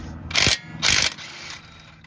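Impact gun spinning off 18 mm brake caliper bolts on a 2007-2013 GMC Sierra 1500 during a front brake pad job, two loud close bursts of about a quarter second each, followed by quieter mechanical noise.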